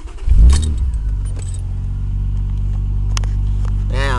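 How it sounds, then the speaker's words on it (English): A car engine starting warm rather than cold: a short cranking burst and catch, then a steady low idle rumble that holds to the end, with a faint jingle of keys. "All the lights will go out except for one when I start it."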